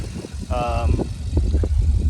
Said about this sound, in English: SRS larger exhaust. You'll hear it pitter-pattering here.